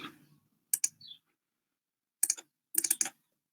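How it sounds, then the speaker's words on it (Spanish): Computer mouse with a faulty button giving double clicks, sharp paired clicks in a few short bursts, close and fairly quiet against a silent background. "es que mi mouse da como doble clic"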